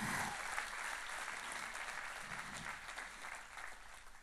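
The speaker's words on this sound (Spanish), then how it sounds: "Date un aplauso." Steady applause from a church congregation during a sermon, a dense, even wash of many hands clapping that carries on throughout at moderate volume.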